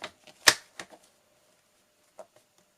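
Paper being cut with scissors for a scrapbooking card: a few sharp, close snips, one loud cut followed by smaller ones, then a brief later snip in a quiet room with no talking.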